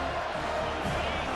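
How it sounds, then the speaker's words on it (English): Stadium crowd roaring at a college football game as the home defense tries to pin the opponent deep, a dense, sustained wall of cheering and noise. "The roar of the crowd trying to fuel this defense to keep them pinned in their own end"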